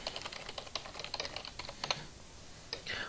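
Quick, light keystrokes tap on a computer keyboard in an uneven burst of close clicks, then pause before a final couple of presses.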